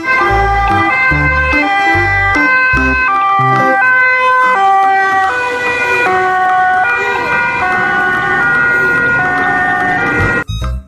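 A toy ambulance blares a loud electronic siren, stepping through repeating two-tone wails with a thumping beat, continuous and close for nearly the whole stretch before cutting off.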